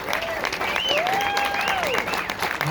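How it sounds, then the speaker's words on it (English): Moderate applause from an audience at a film conversation event, an even patter of clapping over a few seconds, with a voice speaking over it. "Thank you for the tepid applause"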